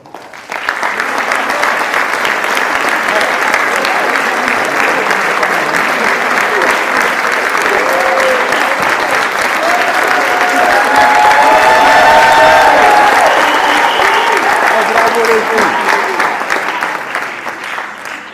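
School staff rising to steady, sustained audience applause at a French-language school success celebration, a thick, even roar of many hands clapping that continues for a long stretch with a slight swell midway.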